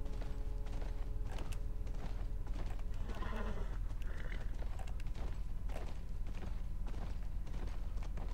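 A horse being ridden in The Last of Us, with steady clip-clop hoofbeats and creaking tack throughout and a brief snort or whinny near the middle, fairly close and moderately loud.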